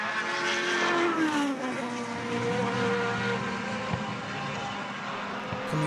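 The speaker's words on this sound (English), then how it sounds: "Coming out of the hairpin onto the short straight, we see Sylvie Mullins very cleanly makes hi" Formula BOSS racing cars accelerate out of a hairpin onto a short straight at a circuit in Ireland, with loud, high-revving engines whining and shifting pitch as they pass, and crowd or track ambience behind.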